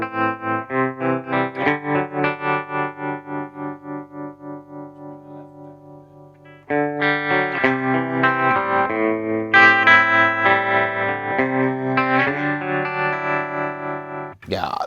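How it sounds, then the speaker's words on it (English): Electric guitar chords through a Fender Super Champ XD practice amp with its digital tremolo effect, the volume pulsing in a quick, even throb, loud and close, with no talking. "So let's listen to the tremolo."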